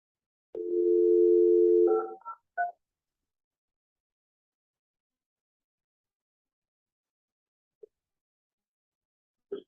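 A steady conference speakerphone dial tone hums for over a second, followed by a few quick touch-tone dialing beeps, then near silence with faint clicks at a public water advisory meeting.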